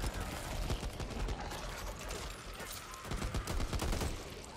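Rapid gunfire in the co-op zombie shooter Back 4 Blood, dense overlapping bursts and shots crackling continuously with game effects throughout.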